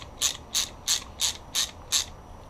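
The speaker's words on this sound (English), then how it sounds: "Let's put that on, and the ratchet." A hand ratchet turns a screw while pins are being replaced on a D815 dog bone, giving six evenly spaced, crisp clicking bursts at close range with no talking.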